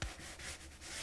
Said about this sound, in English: you can start sanding with the 320 sandpaper